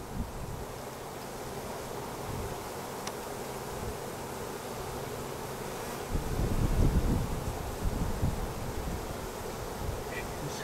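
Honey bees swarm around an open hive colony with brood, giving a steady close buzzing drone that swells louder midway, with light wind and handling noise in the background.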